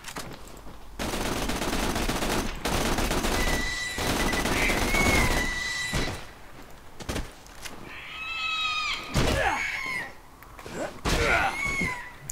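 Rapid bursts of automatic gunfire crackle in the video game Borderlands 2, loud and close, with shrill creature-like cries and screeches rising between the volleys near the end.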